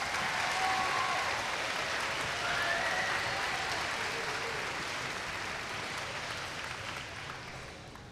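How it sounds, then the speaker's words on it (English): A school assembly audience applauds its choir and band students at a Veterans Day event. Dense, continuous clapping from a large crowd stays strong and gradually thins toward the end, with no talking over it. "please join me in one more round of applause for our very talented choir and band"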